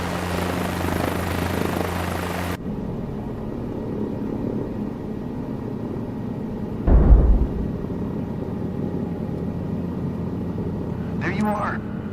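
A helicopter hovers low at about two feet, its rotor and engine a loud continuous throb, with an instructor's voice over it at first, a brief thump midway and a faint chirp near the end.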